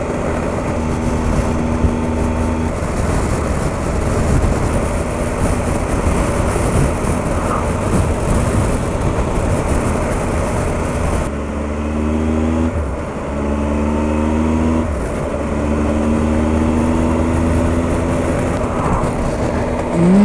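A 2018 Triumph Tiger 1200 XRX motorcycle cruising in sixth gear at steady revs, its engine drone loud and continuous with a brief shift in tone midway, along with wind and road noise.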